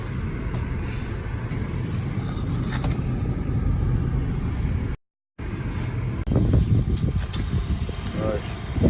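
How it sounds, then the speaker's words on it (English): A Honda Civic is driven up and positioned close to another car for a jump start, its engine humming low and steady with wind buffeting the microphone, a short dropout, and a voice speaking over it. "It didn't want to work, so I'm pulling the Civic up."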